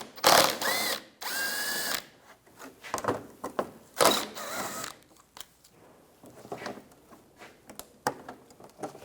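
A power drill with a 10mm socket backs bolts out of a 2004-2009 Toyota Prius, in several short whirring bursts with gaps between them and softer clicks and handling noises close by.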